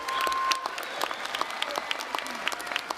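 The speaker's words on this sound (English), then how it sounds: "We're clapping for you." Audience applause at a university commencement ceremony, a crowd clapping steadily for about three seconds in a large space, with a few scattered sharper claps standing out over the wash.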